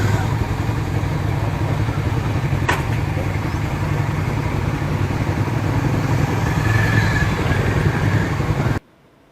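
A single-gear training motorcycle with no clutch or brakes runs steadily on the throttle, its mid-pitched engine drone loud and close throughout before cutting off abruptly at the end.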